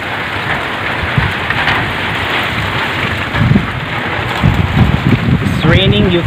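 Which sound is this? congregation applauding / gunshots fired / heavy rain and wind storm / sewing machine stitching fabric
heavy rain and wind storm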